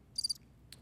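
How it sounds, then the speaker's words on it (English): Crickets chirping as a comic sound effect, one short rapid triple chirp followed by a brief faint second chirp, alone over quiet background. "crickets for that one."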